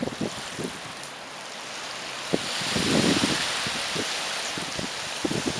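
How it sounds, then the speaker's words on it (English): Cold wind buffets a beach at a bay while waves wash in, a steady broadband roar of surf and gusts rising and falling, with occasional faint thumps close by. "It's a cold, windy day."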